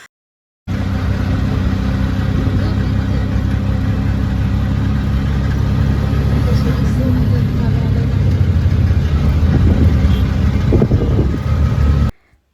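Steady engine drone of an auto rickshaw on a ride toward Katraj, a continuous mid-low rumble running unbroken for about eleven seconds with road noise and occasional faint voices beneath.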